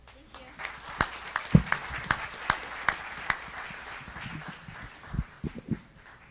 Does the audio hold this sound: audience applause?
yes